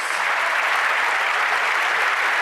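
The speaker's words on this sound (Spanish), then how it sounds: "¡No aplaudan!" Steady, dense applause from a large audience at a clown comedy act in Chile, evenly sustained throughout without pause.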